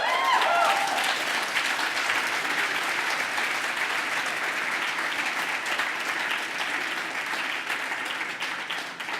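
Sustained applause from an audience at a free speech event, dense and steady for the whole span, with no talk over it.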